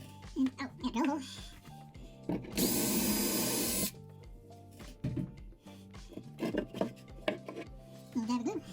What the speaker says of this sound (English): And, oh, yeah, drill a hole.